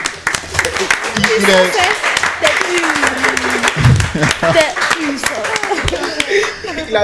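An audience at a contest between ISTC and Université FHB breaks into scattered clapping, mixed with people talking and a little laughter.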